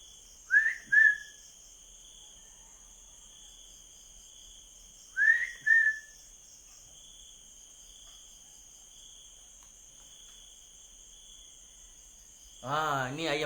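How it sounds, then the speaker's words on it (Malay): Two pairs of short, bright whistled bird calls, then a longer warbling call near the end, over a steady high insect-like drone. "Bukan, ini burung. Ini burung."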